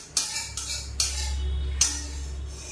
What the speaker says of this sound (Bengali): তা বাটি দিয়ে তো ঘ্যাটকল পাতাটা তুলে রাখি।